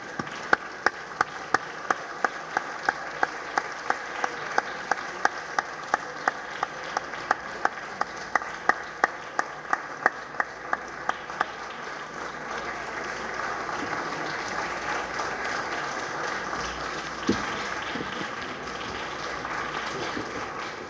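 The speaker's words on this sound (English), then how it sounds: "let us all give him a round of applause" Audience applause after a speech at the ABICC 2016 award event, heard as a run of sharp, separate claps early on that thickens into a steady, moderately distant wash of clapping lasting about twenty seconds.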